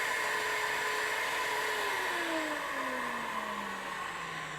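A high-speed die grinder smoothing and blending the bowl under the valve of a Pontiac cylinder head, a sustained whine that slowly drops in pitch as it bears into the metal, steady and close, with no talk.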